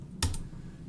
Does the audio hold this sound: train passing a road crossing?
no